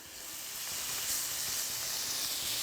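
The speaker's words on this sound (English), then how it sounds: "turn this heat down a little, I'm gonna add some butter" Butter sizzles in a hot pan on lowered heat, a soft, steady frying hiss that builds slightly over a few seconds, quiet and without talk.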